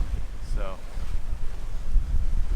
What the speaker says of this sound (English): So good sail angle today, not too crazy, like 10 knots of wind